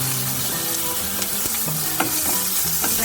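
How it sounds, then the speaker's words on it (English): Chili frying in hot oil in a pan, added after ginger garlic paste over a reduced flame while making brinjal biryani; a steady close sizzle with occasional sharp pops and stirring clicks, no voices. "Fry the chili for a second"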